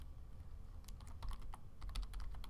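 Someone types on a computer keyboard in short, uneven bursts of clicking keystrokes, quiet and close against a low background hum, with no talking.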